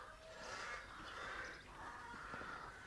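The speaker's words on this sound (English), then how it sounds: "Well, listen to those crows." Crows caw repeatedly in the distance near a church on the Nash Point coastal walk, a few hoarse calls rising and falling over faint outdoor ambience.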